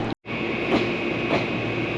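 A Meitetsu train at Shin-Unuma station gives off a steady, loud rumbling hum with a high whine above it. The sound cuts out briefly near the start, then carries on evenly, with no voices.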